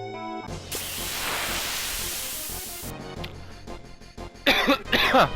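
A harsh, noisy cough bursts out and rasps for a couple of seconds, followed by a few shorter throat-clearing coughs.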